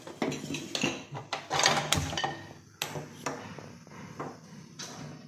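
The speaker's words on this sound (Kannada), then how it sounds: "ಈಗ ಈ ಕಡೆ ಒಂದು ಕುಕ್ಕರ್ ಇಟ್ಕೊಂಡು" Pressure cooker set down and handled on a home stove, with metallic clanks, knocks and clinks of pots and utensils at close range, irregular and moderately loud.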